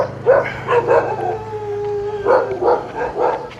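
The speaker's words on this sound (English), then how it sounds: "Those dogs are going absolutely bonkers" Several dogs in Thailand bark and howl in a frantic chorus nearby, with a long drawn-out howl between bursts of yips and barks; nobody speaks.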